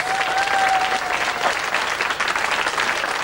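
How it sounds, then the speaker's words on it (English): A TV studio audience claps and applauds loudly and steadily, a dense wash of hands that holds for several seconds with no talk over it. "you're both clapping, applauding"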